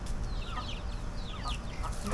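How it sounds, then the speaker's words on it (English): Hens and baby chicks cluck and peep together in a coop, with a steady chorus of close, overlapping calls over a constant background. "Look how big the baby chicks have gotten within 2 days."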